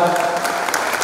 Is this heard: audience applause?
yes